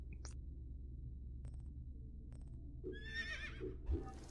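Horse whinnying in the Egyptian game world of Assassin's Creed Origins, a rising, shaky neigh near the end over a low rumbling background, with a few faint thin clicks earlier and no talking.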